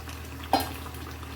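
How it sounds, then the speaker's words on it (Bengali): Capsicum and whole green chillies frying in ghee in a kadai give a soft, steady sizzle, broken once by a short clink of a utensil against the pan. "আমি এতে ক্যাপসিকাম আর কাঁচা লঙ্কা দিয়ে দিচ্ছি, আস্ত কাঁচা লঙ্কা আর ক্যাপসিকাম।"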